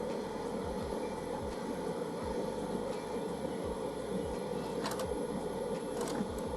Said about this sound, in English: So it's pushing out the labels.